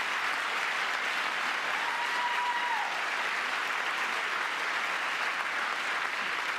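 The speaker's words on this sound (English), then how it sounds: "these niggas clap after everything" A crowd claps steadily through a Trump speech, dense and continuous applause filling the room with no voices standing out.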